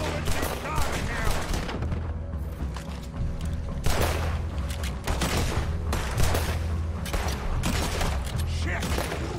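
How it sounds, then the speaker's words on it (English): Rapid bursts of gunfire from a Red Dead Redemption 2 shootout in a swamp, loud and repeated across the whole stretch over a constant game background, with voices speaking now and then. "Put every bullet you got in him."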